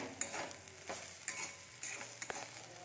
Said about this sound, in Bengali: আলু ভাজবো